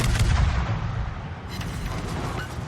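Warship guns firing in a naval battle game, a heavy rumbling boom at the start that fades into low mechanical roar, with a fainter second report about halfway through.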